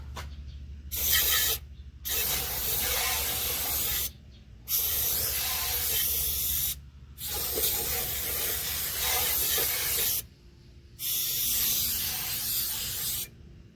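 Gunk Original degreaser hisses from an aerosol can onto the valve cover of a 1966 Ford F-100 in five steady bursts of a few seconds each, separated by short pauses.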